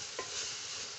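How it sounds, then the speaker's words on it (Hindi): Aloo qeema being stir-fried in a pressure cooker pot after the water has dried off, a steady close sizzle with one brief scrape of a spoon stirring the minced meat. "अब मैं इसको अच्छी तरह भून लूँगी।"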